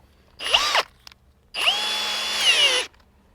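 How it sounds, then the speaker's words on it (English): Two bursts of a power drill boring a pilot hole through the mudguard of a Toyota Prado 2.8L 150 series, a short whirring run followed by a longer steady drilling pass, close and loud with no talk. "So I'm going to start with a pilot drill."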